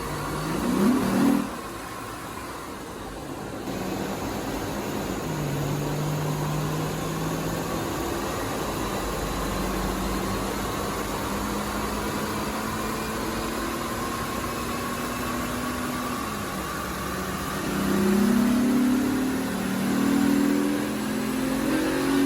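A second-generation Honda Ridgline pickup engine revving on a dyno, rising and falling through long sustained pulls under load with rough surges near the end, loud and continuous with no talking.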